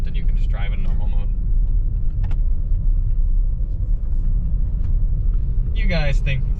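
A Volvo V90 rolls over muddy, bumpy off-road ground, its low rumbling road and suspension noise steady and close throughout, with brief clunks and people talking inside the car at the start and again near the end.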